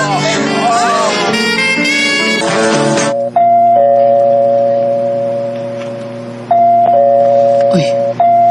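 A doorbell rings at a house gate: a loud multi-tone chime plays for about three seconds, then a sustained electronic tone with a couple of clicks follows.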